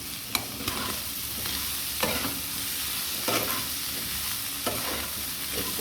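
Broccoli, capsicum and thick-cut onion frying in a pan for a Chinese vegetable stir-fry, a steady loud sizzle broken by regular stirring scrapes and clicks.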